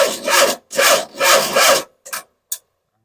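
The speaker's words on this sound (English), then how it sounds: "the starter is so struggling" An engine starter motor struggling to crank on a first start-up attempt: three slow, rasping grinds in a row, then two short, weak bursts before it stops.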